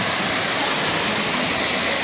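A waterfall in Jamaica roars steadily and loudly, a dense unbroken rush of falling water close by.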